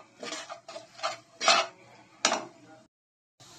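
A spoon stirs spices with Kashmiri chili powder in a cooking pan, giving a run of sharp metallic clinks and scrapes at an uneven rhythm, close and alone, ending in a brief silence before one more scrape.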